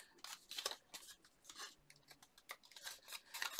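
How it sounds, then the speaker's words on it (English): Sharp, quiet snips of scissors trimming small tabs on a paper card box, several quick cuts in irregular clusters, close up with no talk. "just cut those slightly to form a smaller tab."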